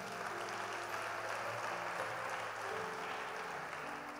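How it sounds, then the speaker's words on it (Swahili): A church congregation claps for the Lord at a sermon, a dense, sustained round of applause filling the room with no voices over it. "Mpigie Bwana makofi kabisa."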